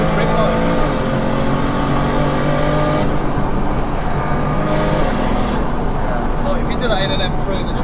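A 700 hp single-turbo BMW wagon engine drones steadily and loudly from inside the car while driving, a constant hum with shifting harmonics, while someone talks over it.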